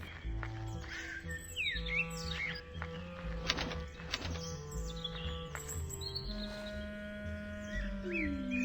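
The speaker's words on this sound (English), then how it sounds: "For the next achievement, we need to interact with the crow." A crow in the dark fantasy game Gretel and Hansel caws and chirps in short calls over a steady low musical hum and eerie ambient tones, with no voices.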